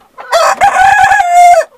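A young rooster crows once, close and loud, a short strained cock-a-doodle-doo with a rising opening and a held, slightly wavering final note.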